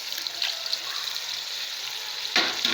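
Water hisses into a pan of turnip bhujia masala, a steady bright splashing pour with a louder burst near the end.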